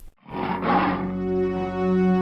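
A lion roars loud and close, a deep sustained throaty roar with a rough harmonic rumble that swells and holds steady for about two seconds after a brief silent start, with no voices.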